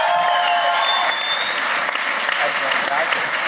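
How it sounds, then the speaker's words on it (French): An audience at a comedy show applauds the comedians, a loud, sustained wash of clapping with some tonal ringing and faint voices mixed in. "On les applaudit!"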